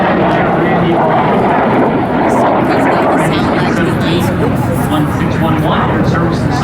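A fighter jet, a Soviet Bloc type flown by Randy Ball, sweeps along the airshow line at about 500 mph during the Laredo Stars & Stripes Airshow, a loud, dense jet roar under continuous commentary.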